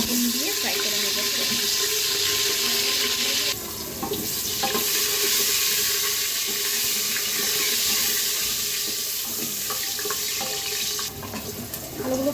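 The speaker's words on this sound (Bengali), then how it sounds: "আলুগুলোকে একটু লবণ দিয়ে ফ্রাই করে নেব।" Potato pieces frying in hot oil with salt for beef biryani, producing a loud, continuous close sizzle with occasional stirring scrapes and a brief change in intensity partway through.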